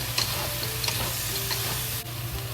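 Already fried, fully cooked pork is tossed and stir-fried in a hot wok with a steady sizzle, broken by a few light scraping and stirring clicks.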